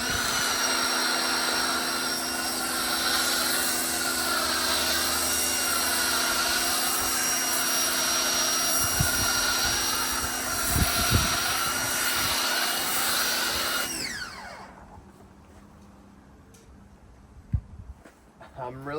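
A Ryobi pressure washer fitted with a 1.1 millimeter orifice drives a foam cannon spraying soap, making a loud, steady, close whine for about fourteen seconds. It then cuts off abruptly, leaving near quiet broken by a single knock.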